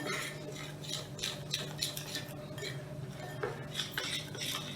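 Dahi phulki batter being mixed with water in a bowl, a utensil scraping and clinking against the sides in quick, steady strokes, close and fairly quiet, with no talking.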